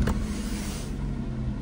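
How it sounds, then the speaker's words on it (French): A Jaguar XF engine starting and then holding a steady, close idle rumble for a moment, with no talking. "Vous êtes prêts ou pas pour entendre le moteur?"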